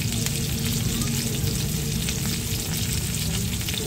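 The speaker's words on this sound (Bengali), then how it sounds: "দিয়ে একটু ভালো করে নাড়াচাড়া দিয়ে দেবো" Tomato, ginger paste and salt fry in a pan with a steady, dense sizzle while being stirred, the crackle continuous and close throughout with no talking.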